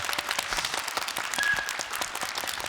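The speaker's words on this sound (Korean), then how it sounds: "우리 겸손한 두 분께 박수 한번 부탁드리겠습니다" An audience at a talk event claps for two guests, a moderately close burst of many hands with distinct claps standing out in an uneven rhythm, sustained without pause.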